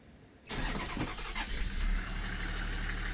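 A noisy tour bus engine in Tourist Bus Simulator cranks to life after a quiet half second, then settles into a loud, rough, rumbling run that stays close and steady.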